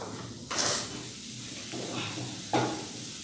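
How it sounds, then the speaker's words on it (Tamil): Onions sautéing in melted butter for butter chicken, a close, soft sizzle broken by a few bursts of stirring and scraping. "இந்த வெங்காயம் வந்து நல்லா வதங்கணுங்க"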